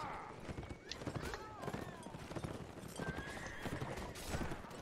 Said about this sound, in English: This horse does not have good turn speed.